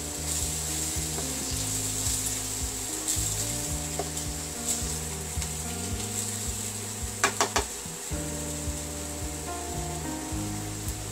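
Cumin powder sizzling in hot oil in a pan for a prawn and jackfruit curry: a soft, steady fizz with a low humming drone and faint stirring scrapes, plus a few brief clicks near the end; no talking.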